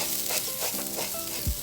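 Rice sautés with cumin in a pot for Egyptian koshari, a close, continuous sizzle broken by scraping stirs, with a low thud near the end.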